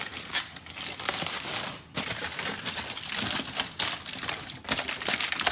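Rested smoked pork belly is unwrapped from its foil or paper up close, giving repeated crinkling, crackling and tapping sounds in bursts, with a short pause partway through.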